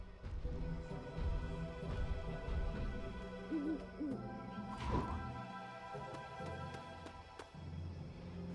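An owl in the Lego The Hobbit video game gives a couple of soft hoots amid game music and scattered clattering thumps, fairly quiet and brief near the middle.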